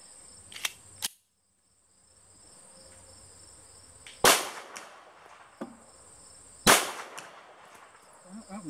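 Two sharp 7.62 x 25 pistol shots ring out alone, a few seconds apart, each a loud crack with a short ringing tail over a steady faint background hum and a few smaller clicks.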